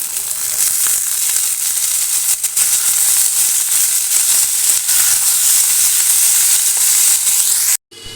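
Loud, continuous frying hiss from onions in a pan, with faint stirring scrapes underneath, cutting off abruptly at the end.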